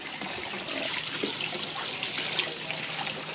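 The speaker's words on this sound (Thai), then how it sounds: "ต้องจับน้องหมาอาบน้ำก่อน" Water runs steadily into a tub while a dog is bathed with tick and flea shampoo, a close, continuous splashing hiss with no speech.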